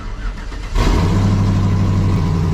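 A car engine cranks and catches after a battery replacement, then settles into a loud, steady, close idle hum with no talking.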